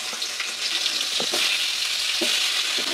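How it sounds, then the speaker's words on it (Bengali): Potato pieces frying in oil for a spiced cabbage dish, a steady loud sizzle throughout with a few soft stirring scrapes and clinks, no voices. "আমি এই তেলের মধ্যে আলুগুলো দিয়ে দেবো"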